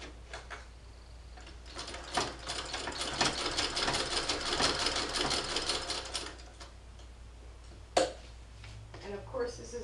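An 1891 White VSIIb treadle sewing machine stitches through leather, a steady rapid mechanical clatter running for several seconds up close, then stopping, followed by a sharp knock.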